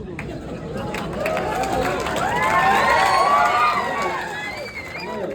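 A large crowd at a public gathering, cheering and shouting loudly in many overlapping voices, swelling to a peak midway and then easing off slightly, close and sustained throughout.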